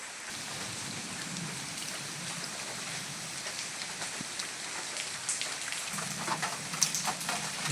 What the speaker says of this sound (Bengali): টানা লাগাতার বৃষ্টি এবং এখান থেকে পানি বের না হয়ে যেতে পারার কারণে পুকুর ভেসে যাওয়ার সম্ভাবনা আছে